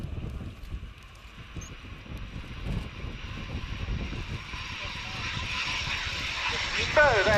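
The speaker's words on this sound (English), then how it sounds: "So there's Flight Lieutenant Ryan Lawson rolling out in the number 29 Reserve Squadron, Eurofighter Typhoon FGR4." A Royal Air Force Eurofighter Typhoon FGR4 of 29 Reserve Squadron taxiing at the RIAT 2017 airshow: a low, rumbling jet engine drone builds slowly into a steadier, brighter whine, heard from some distance.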